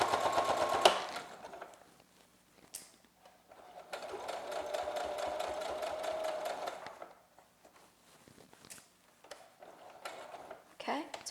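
A sewing machine stitches the ties of a cloth face mask, running in short bursts of rapid, close mechanical whirring separated by pauses, with a person talking quietly between runs.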